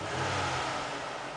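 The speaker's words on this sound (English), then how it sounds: "I'm going to rev the engine" A 2009 Toyota Sienna Limited minivan engine revs steadily up close, a continuous mid-pitched engine roar holding for just over a second with no talking.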